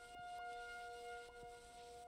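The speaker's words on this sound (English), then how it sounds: "these our tornado sirens go off once a week for make sure, you know, they're still working" A weekly tornado siren test carries faintly from far away as a thin steady wail under low background hiss, with no voices.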